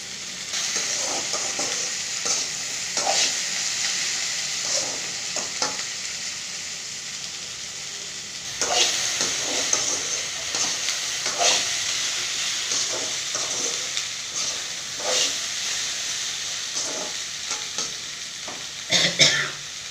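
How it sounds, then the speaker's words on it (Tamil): Steady sizzling and frying of okra in a pan with scattered stirring scrapes and clinks, continuous hiss throughout, no voices. "வெண்டைக்காயை வதக்கி போட்டால் தான் நல்லா வலு வலுங்காது சீக்கிரம் வெந்துடும்"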